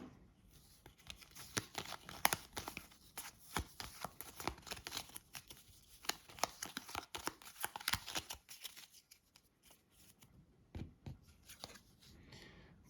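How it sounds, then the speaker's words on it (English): Darkest Dungeon board game cards are shuffled and handled close by in a quiet room, with soft crisp riffles, slaps and paper rustles coming in uneven bursts. "Okay, so let's shuffle all of these in."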